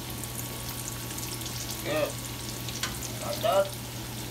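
Fry bake dough bubbles in hot oil, a steady close frying hiss with a few louder spattering bursts, under short bits of casual talk.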